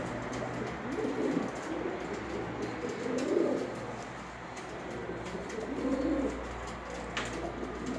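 Pigeons cooing in soft, repeated low calls, several overlapping phrases close by, over a steady background hum.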